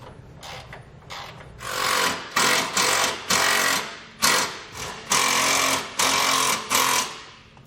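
A power tool runs down self-tapping bolts on a spring bracket while Air Lift LoadLifter 5000 Ultimate air helper springs are fitted, in about six loud, close bursts of whirring with short pauses between them.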